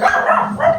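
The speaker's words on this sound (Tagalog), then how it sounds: "Ano lang nga aso yun?" A dog gives a short, close bark that trails into a whiny yip, lasting under a second.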